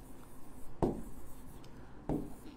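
Pen or chalk writing on a board during a geometry class on quadrilaterals, heard as two short scraping strokes set against a faint room background, fairly close and with no talking.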